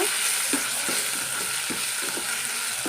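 Tomato fries in a masala for pomfret fish fry, giving a dense, close sizzle with soft, regular stirring strokes underneath.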